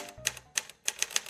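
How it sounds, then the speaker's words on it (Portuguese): Mechanical typewriter keys strike in a quick irregular run, about five or six sharp clacks spaced unevenly, close and clear against a quiet background with no talking. "Ai, datilografia, máquina."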